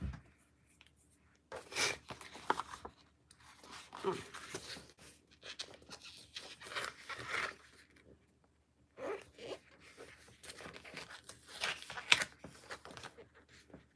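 Paper trimmed away from around a photo in a craft project, giving scattered soft cutting and rustling bursts at close range with quiet gaps between them.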